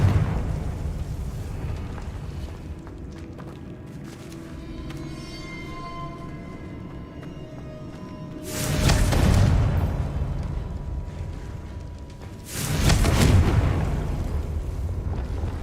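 In Hogwarts Legacy, the Confringo fire spell sounds as two loud, roaring blasts a few seconds apart, each about a second long, rising out of a quieter rumbling game ambience.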